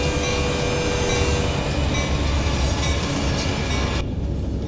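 A train rolls past in American Truck Simulator with a dense, continuous rumble and rail roar that holds steady. The high end drops away abruptly near the end.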